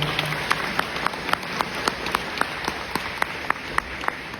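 Audience applause at a seniors workshop, faint scattered claps over a steady hiss of room noise, irregular and sparse, with no talk.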